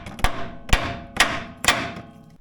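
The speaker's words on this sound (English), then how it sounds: "I've been tapping on the outside of the pitman arm like that, trying to get it to drop" Four sharp metallic hammer blows strike the steering pitman arm on a Jeep JK during a one-ton drag link replacement, evenly spaced about half a second apart, close and loud with ringing decay.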